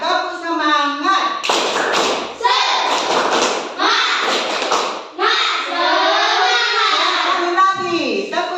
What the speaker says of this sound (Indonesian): coba dulu kita tepuk semangat